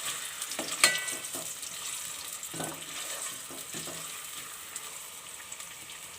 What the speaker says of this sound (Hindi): तेल हमारा हल्का गर्म हो जाएगा तो इसके अंदर हम ये एक डली प्याज की डालेंगे।